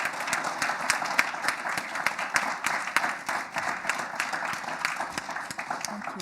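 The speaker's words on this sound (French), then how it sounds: "on peut lui faire donner une grande main d'applaudissements" A seated audience at a university history colloquium applauds the honored keynote speaker, steady dense clapping filling the room throughout.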